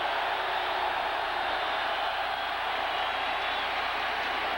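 A distant stadium crowd roars steadily in a broad wash of cheering and murmur at a 1993 Monday night football game between the Philadelphia Eagles and Dallas Cowboys.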